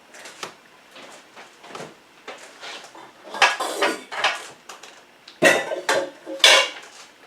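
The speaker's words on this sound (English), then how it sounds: "Okay, so let me get a mixing bowl." A KitchenAid mixer bowl is lifted out and handled in a home kitchen while muffins are made, giving scattered metallic clinks and clatters that build to several sharper knocks near the end, with no talking.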